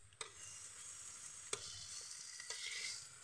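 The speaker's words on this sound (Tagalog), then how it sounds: "Sige lang, panay lang halo." Herbs stirred in cooking oil in a pan for a homemade herbal haplas rub, giving a steady close sizzle and frying hiss with a few sharp scrapes of the spoon against the pan.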